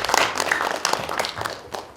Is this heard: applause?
yes